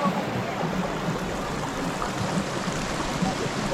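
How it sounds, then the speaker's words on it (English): A water stream in Coorg, India, flows in a steady broad rush and gurgle, moderately loud and continuous, as walkers cross it outdoors. "We're just crossing this whole water stream and going over there"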